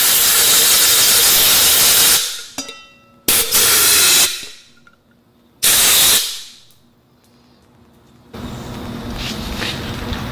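Loud bursts of compressed air hiss through an Atom X21 automotive spray gun, several blasts separated by pauses, ending in a steadier sustained blow.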